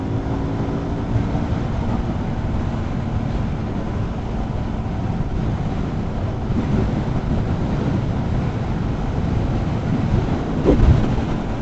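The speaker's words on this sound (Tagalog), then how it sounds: "Lakas ng hangin." Strong wind buffets a rider on a moving motorcycle, a loud, continuous roar with a low rumble that stays steady for the whole stretch, with no voices.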